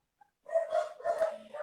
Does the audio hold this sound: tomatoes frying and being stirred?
no